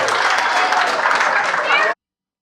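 A stand-up comedy audience claps in a steady, close burst of applause that lasts about two seconds and then cuts off sharply.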